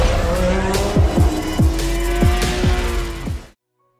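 Racing cars from the video game Forza Motorsport 7 roar loudly as engines rev through repeated rapid gear shifts, with tires squealing across the track, before the sound cuts off abruptly.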